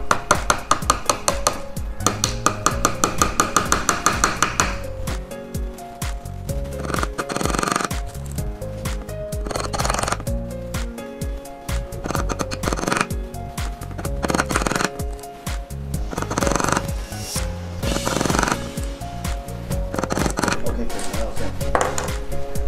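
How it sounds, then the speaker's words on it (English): Rapid light tapping of a hammer on a nail for string art, repeated in quick bursts with pauses between, sharp metallic ticks close to the ear. "Now we use the hammer and tap the nail."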